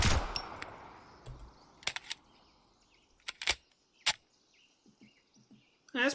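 Gunfire from point shooting in the video game Road to Vostok: several sharp, loud shots at irregular intervals, each with a short ringing tail, amid faint ambient bird chirps.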